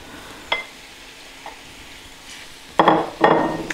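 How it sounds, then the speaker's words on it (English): Beef and garlic land in a hot pot with paprika for Hungarian goulash, starting with a brief clink, then two loud bursts of sizzling hiss near the end. "And now we'll add the beef and the garlic."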